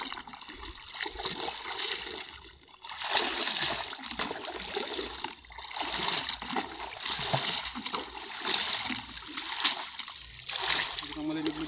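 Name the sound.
washing dried fish in a bucket of water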